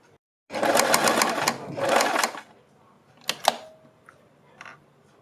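A sewing machine runs in two quick bursts while pleats are stitched onto a kurti neck strip. A few sharp clicks and handling knocks follow as the fabric is adjusted, close and with no talk.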